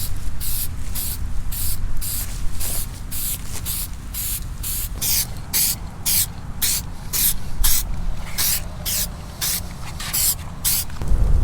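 Aerosol spray paint coating RAM 1500 truck emblems black, a series of about two dozen close, loud hissing bursts in a steady back-and-forth rhythm with short pauses between passes.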